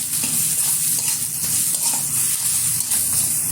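Chili powder and salt stirred into misal frying in a pan, a steady loud sizzle with faint scraping of the spoon throughout.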